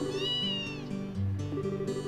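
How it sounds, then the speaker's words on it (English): Kitten meow sound effect from The Legend of Heroes: Trails in the Sky, a rising and falling mewing cry followed by short softer mews, clear and close. "kitten sound effect."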